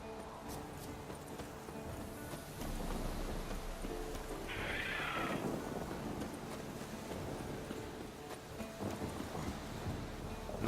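A warhorse neighs and whinnies in The Witcher 3 game, a clear mid-level call standing out over a steady windy outdoor ambience with faint hoof clip-clops.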